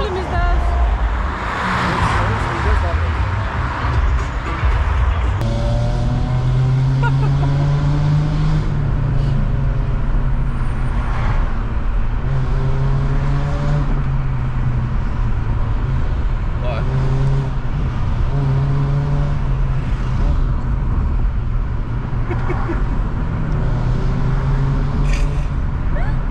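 Cars moving through night-time Tbilisi streets, steady engine hum and passing vehicle drones swelling and fading over continuous traffic noise, with people talking throughout.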